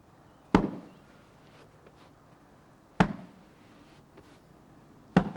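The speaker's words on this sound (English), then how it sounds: "You want to hear a definite thud and a swipe." A grooming brush strikes a horse's coat three times at slow, even intervals, each a sharp close thud followed by a brief swipe, with quiet ambience between.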